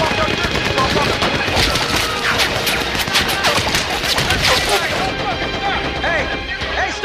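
Tank machine guns open up in a World War II battle scene, rapid overlapping bursts and heavy crashes rattling loudly and continuously, with shouted voices amid the gunfire.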